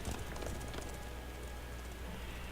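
Horse hooves clip-clop in The Witcher 3, a quick, steady run of hoofbeats under a dense, noisy game mix with music and ambience; no talking.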